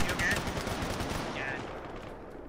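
Turret gunfire in a Halo mod for Arma 3, a dense rapid machine-gun rattle that stays steady and fairly loud before easing off slightly, with brief voice traces in the background.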